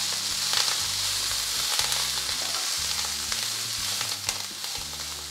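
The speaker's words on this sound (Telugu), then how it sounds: "చిల్లీస్, కొద్దిగా నువ్వులు, ఇవన్నీ లైట్గా ఫ్రై చేయాలి" Chillies and sesame seeds sizzle and fry lightly in a pan with coriander, a steady close crackling hiss with occasional stirring scrapes and no talking.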